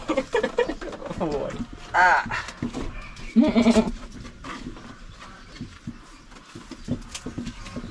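Goats bleat nearby, several wavering cries in the first few seconds, while people talk throughout.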